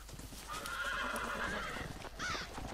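Horses in the video game Red Dead Redemption neigh and whinny with a drawn-out call followed by a shorter one, with hoof clip-clops under them at moderate distance and no talking.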